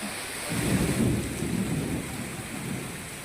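Unseasonal rain over Gir Somnath, Gujarat, falls as a steady wash of hiss with soft thunder rolling at a distance underneath, fairly quiet and unbroken.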